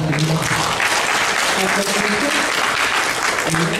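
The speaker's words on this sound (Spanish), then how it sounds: "Un fuerte aplauso, por favor." At an international congress, an audience gives a speaker a round of applause: continuous full-room clapping, loud and unbroken throughout, with faint voices mixed in underneath.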